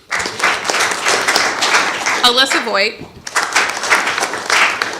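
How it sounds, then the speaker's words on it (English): Audience at a school board meeting clapping for students, a steady patter of applause running throughout while a voice reads names over it in the middle. "We can still clap for them."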